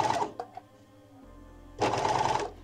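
An overlock sewing machine stitches fabric around a curve, running in two short bursts with a quiet pause between, loud and close.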